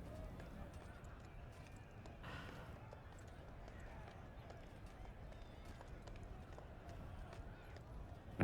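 Horse hooves gallop in Dragon Age: Inquisition's Trespasser DLC, a steady, unbroken drumming rhythm that runs the whole time beneath a dense wash of other game sound.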